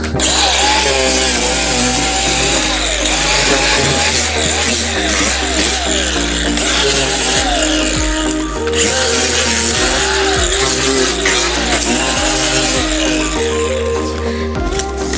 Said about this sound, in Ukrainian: За традицією беремо акумуляторну болгарку і лупашимо скотч.